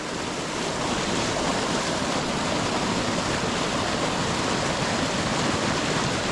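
Steady, rushing water roars without pause, a dense broadband wash like a fast river flowing close by, with no voices.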